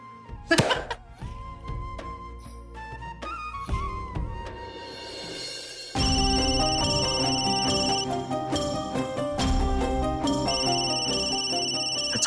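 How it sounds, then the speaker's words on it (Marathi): A telephone ringtone plays a loud, repeating electronic melody up close, following a brief cough-like sound and a few scattered tones. "फोन"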